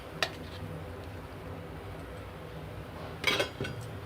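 Cut mango pieces go into a blender jar, heard as two brief, close clinks against the jar separated by a few seconds of near silence.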